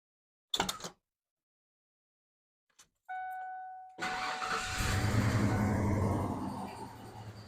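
Two short clicks, then a starter whines and a 1996 Ford F150 pickup engine catches, settling into a steady, close idle rumble.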